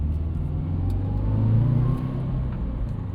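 A 2014 Subaru WRX hatchback with a turbocharged boxer engine and five-speed manual accelerates, its steady low engine rumble swelling and rising in pitch, heard from inside with no talk.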